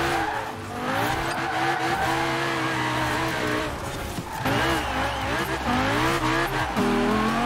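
Lamborghini Huracan with a drift bodykit in Forza Horizon 4, engine howling loudly while tires squeal in long continuous drifts, pitch sliding up and down with a brief dip before revving back up.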